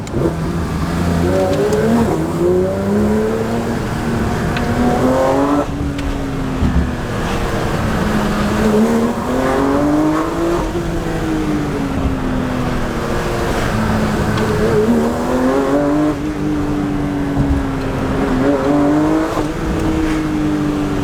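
A new Porsche GT3 RS engine revs loudly and continuously, its pitch rising and falling through repeated gear changes, with no voices over it.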